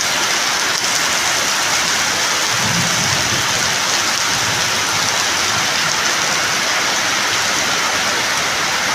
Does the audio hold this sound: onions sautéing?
no